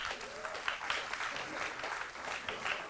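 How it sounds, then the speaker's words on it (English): Steady applause from an audience at a school board meeting, a dense patter of clapping at moderate distance that continues throughout. "Let's give Ashley another round of applause."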